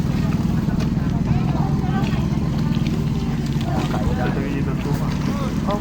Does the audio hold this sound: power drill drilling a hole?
no